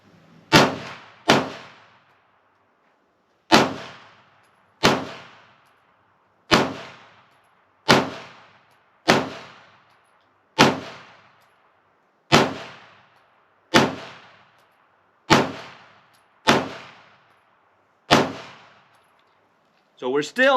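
Single shots from a CZ Shadow 2 Compact pistol fired at a target, about a dozen sharp, loud reports spaced a second or two apart, each with a brief ringing decay.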